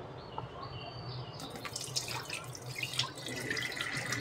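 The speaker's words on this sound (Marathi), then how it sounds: "पाणी बेसिनमध्ये मी ओतते आहे" Water poured off settled wheat starch into a basin makes a gentle splashing trickle with small drips, faint and close, growing busier partway through.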